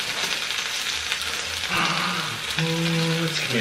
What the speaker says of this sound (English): Now it's frying.